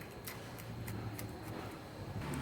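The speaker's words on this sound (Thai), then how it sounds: "สับไป อีก แป๊บหนึ่งครับ" Rapid, evenly spaced taps of a knife hitting a cutting board as chilies are minced, a steady chopping rhythm, fairly quiet.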